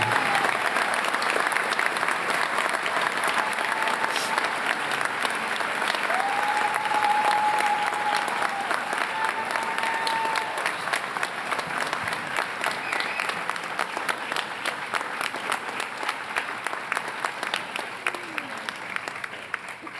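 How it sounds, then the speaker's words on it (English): Sustained applause from a crowd at a university police academy graduation for the first squad, a steady dense clapping that runs about twenty seconds and slowly thins. "Let's have a round of applause for our first squad."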